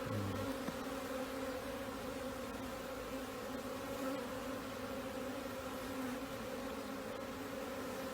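A steady, dense drone of many honeybees buzzing around an open hive colony during beekeeping training, continuous and moderately close with no talk.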